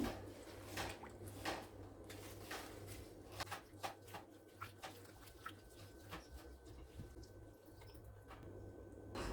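Rose petals are washed by hand in water, giving soft splashes and drips at an irregular pace, quiet and close, over a low steady hum.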